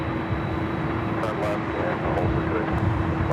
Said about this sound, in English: That is the Delta 767-300ER heading to Honolulu, number 2 for takeoff.